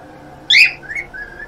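A pet bird gives a sharp, bright whistle followed by a couple of softer, thinner calls, heard close in a quiet room over a faint low hum.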